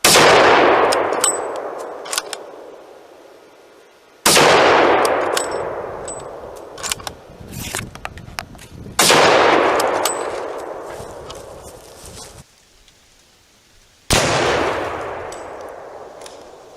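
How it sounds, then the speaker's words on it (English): Rifle rounds fired at concrete slabs: four loud, sharp reports spaced several seconds apart, each with a metallic ring and a long echoing decay. "we'll fire 3 rounds and see what kind of gross penetration we get"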